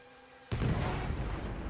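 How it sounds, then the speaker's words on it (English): A big explosion in Red Dead Redemption 2 bursts suddenly after a quiet moment, a loud, broad blast whose roaring rumble sustains and slowly fades. "Damn, that's a big explosion."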